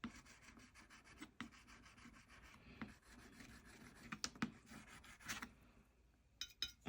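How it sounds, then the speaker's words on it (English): A palette knife scrapes paint across a gelli plate print, with soft rubbing, rasping strokes and a few sharper scratches, close and quiet with no talking. "And just sort of scrape back in, add some more of these marks."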